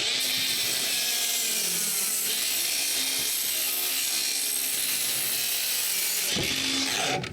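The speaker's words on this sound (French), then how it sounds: "C'est le temps de couper du bois." Saw cutting wood for house wall framing, a loud, continuous harsh grinding rasp that runs close and unbroken for several seconds before easing at the end.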